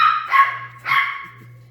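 Two sharp, close barks from excited dogs, a short pause between them, over a steady low electrical hum.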